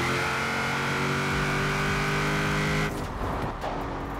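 Forza Horizon 4 car driven with a steering wheel, with a loud steady engine drone holding a constant pitch before easing off near the end, alone with no talk.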